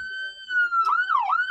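A Ford Bronco chief's response vehicle sounds its wail siren tone, a loud, close electronic pitch holding steady and then sweeping down and back up, with no voices.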